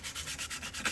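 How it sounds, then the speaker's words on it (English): Grip tape rubs back and forth against rubber shoe grip soles in quick rhythmic scuffing strokes, about six short passes in under a second, close and dry. "It takes my grip soles and scruff them up with a little grip tape."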